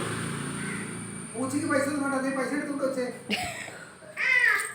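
A cat meows a few times, drawn-out and nasal, close by, with people's voices and background chatter around it.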